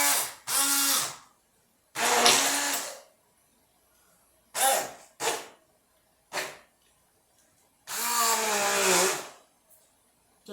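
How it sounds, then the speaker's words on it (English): An electric berry-crushing machine mashes thawed strawberries for freezer jam, whirring in loud motor bursts of about a second each, separated by pauses, the pitch straining and sagging under load. "I'm going to try to crush these berries"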